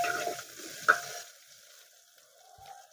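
Onion sautéing in oil for a traditional Marathi village fish curry, a soft hiss of frying with a single sharp metallic clink of a utensil, fading quieter near the end, with no talk.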